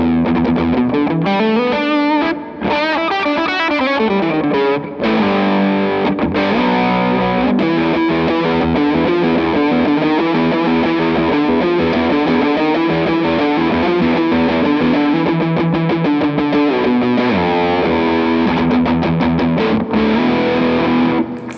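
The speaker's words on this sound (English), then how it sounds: "here's the pedal just by itself, just like a sick kind of heavier distortion" A heavily distorted electric guitar through a heavy distortion pedal plays loud, crunchy chords and riffs continuously, thick and saturated from start to finish.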